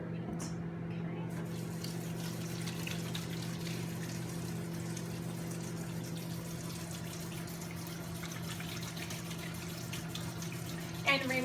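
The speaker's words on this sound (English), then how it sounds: "the first thing I'm gonna do is wash my hands" Hands being washed under a running kitchen tap, a steady continuous rush of water with a low hum beneath it, holding at an even level throughout.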